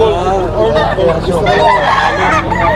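Red Kelso stag roosters, eight-month-old birds, crow and cluck in a loud, busy cluster of overlapping calls, with people talking faintly in the background.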